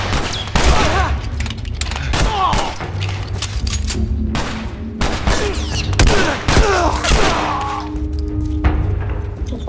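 Rapid gunfire in The Last of Us video game, loud sharp shots in quick bursts with heavy thuds over about ten seconds, continuous and close.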